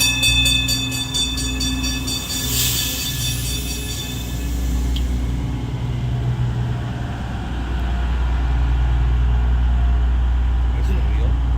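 A cog railway train on Pikes Peak rumbles steadily with a loud low-frequency roar and some high metallic squeal near the start, fairly close and continuous.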